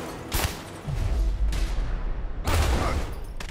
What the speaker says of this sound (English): Oh, I shot him in the neck!